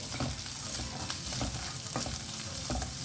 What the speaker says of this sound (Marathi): अब इसमें डाल देते हैं और फ्लेम को अब हाई करें और इसे अच्छे से मिक्स करें